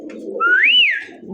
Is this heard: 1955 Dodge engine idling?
no